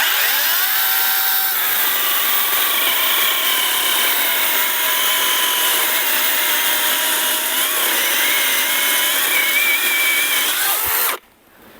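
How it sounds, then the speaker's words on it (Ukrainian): Two ProCraft cordless saws, a PKA 42li and a PKA 33, run together in a steady loud whine with shifting harmonic pitches for about eleven seconds, then cut off abruptly. "ви бачите, як працюють ці дві пилочки"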